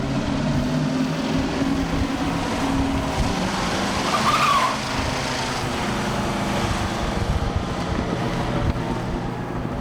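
A 1970 Mercury Cougar Eliminator's Boss 302 V8 roars and revs hard with a rising whine, close and loud, and a brief squealing burst in the middle of the clip.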